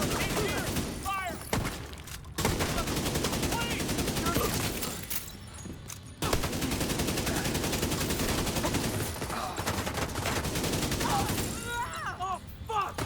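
Dense video game gunfire engages a target in sustained rapid volleys with short pauses, loud and continuous over much of the stretch, with a voice talking faintly underneath.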